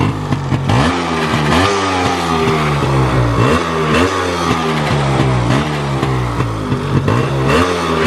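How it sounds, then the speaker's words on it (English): A Yamaha RX two-stroke motorcycle's exhaust, loud and close, idling and blipping under throttle with repeated rising and falling revs in a steady rhythm. "You can see the exhaust note. It is being in the idling as well. Just check it with the throttle."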